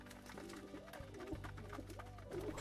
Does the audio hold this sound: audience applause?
no